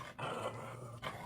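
Dogs growl and grumble in the background, a faint, low, rough snarl in short uneven bursts with no talking over it.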